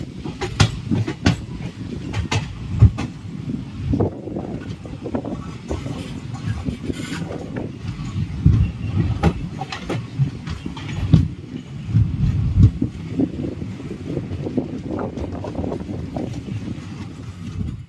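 The Andaman Express passenger train runs between Krishna Canal and New Guntur, heard from on board as a steady, heavy rumble with continuous rhythmic clatter of wheels over rail joints and no talk.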